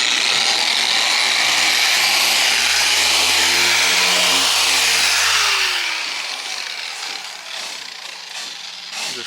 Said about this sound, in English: Hell yeah, A1 polisher right here.